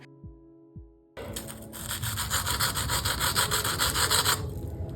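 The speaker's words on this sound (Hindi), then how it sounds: "तो आपको इनकी आवाज़ से ही पता चल गया होगा कि ये कितने क्रंची और कितने क्रम्स वाले बने हैं" Two soft thumps, then a loud, steady crisp crunching and scraping as crumb-coated potato cutlets are cut through, close by, no talking.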